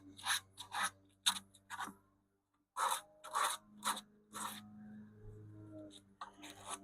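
Sanding the edges of a wooden tube radio cabinet with worn veneer, heard as short rasping strokes in uneven bursts, close and fairly loud, with a brief pause midway.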